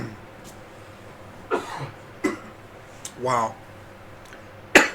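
A man coughs a few separate times near the microphone just after recording starts, short harsh bursts spread across a room with a brief spoken exclamation among them.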